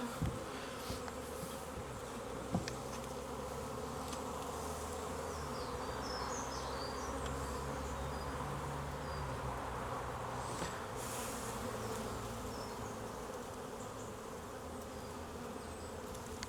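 Honeybees buzzing at the entrance of a hive, a dense, steady drone of many insects close by, with individual bees flying past the listener over the continuous hum; no talking.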